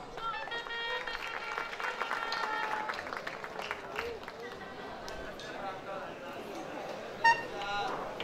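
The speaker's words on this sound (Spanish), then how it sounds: "le brindamos también ese fuerte y respetuoso aplauso" Applause from a gala pageant crowd at a town festival queens' night, moderate clapping under a loud public-address announcer speaking with music and cheers, and a sharp brief burst near the end.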